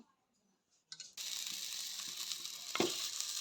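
Vada pav cutlets drop into hot oil after a quiet moment. A brief splash is followed by loud, steady, close sizzling with a sharp click near the end.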